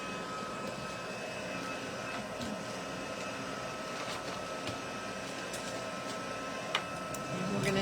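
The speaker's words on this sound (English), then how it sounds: "let's start heating up my heat tool" A crafting heat tool warms up with a steady, even whirring blower hiss that holds throughout, with a slight rise in loudness near the end and no talking.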